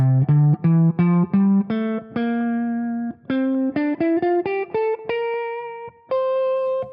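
A guitar plays a jam-track line of single, clearly separated notes that climb slowly in short arpeggio steps, each note ringing and sustaining, clean and upfront.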